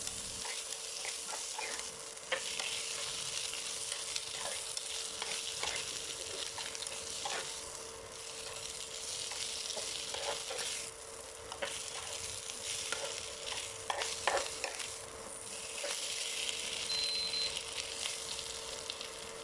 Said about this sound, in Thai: เมื่อพริกแห้งกับกระเทียมสุกได้ที่แล้วนะคะ เราก็จะใส่ ปลาทูลงไปผัดค่ะ ค่อยๆผัดนะคะ